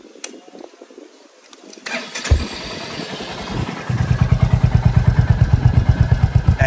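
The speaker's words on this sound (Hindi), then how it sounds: "दोस्तों फर्स्ट स्टॉक एग्जॉस्ट का साउंड सुनते हैं।" Royal Enfield Hunter 350 motorcycle with its stock exhaust, clicks and a starter crank, then the engine catches into a close, loud, steady thumping idle with even low pulses.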